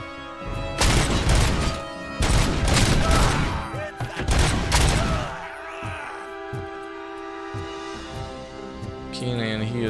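Heavy cannon blasts from RoboCop: Rogue City in three or four loud booming bursts early on, followed by a lower rumble and scattered thuds with a faint mechanical tone.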